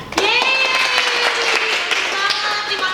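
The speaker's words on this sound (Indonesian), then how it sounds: "Kita kasih tepuk tangan yang meriah ya" A children's Sunday school audience claps together in an uneven burst of applause, with sharp hand claps mixed with cheerful voices and a lively vocal tone running throughout.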